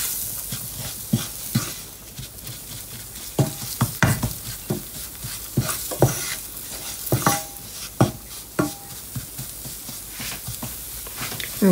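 Ingredients for lasagna sauté in a pan without added oil, a soft sizzle under repeated spatula scrapes and clinks of stirring, close and intermittent.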